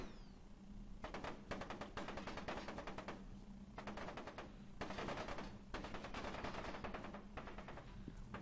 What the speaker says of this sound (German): Und hier ist schon wieder eine Schießerei in Gange.